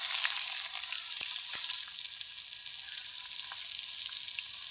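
Mustard seeds, fenugreek, dried red chili and small onions sizzle and crackle steadily in hot oil for a village-style paruppu sambar tempering, a continuous close frying hiss with occasional sharp pops and no talk.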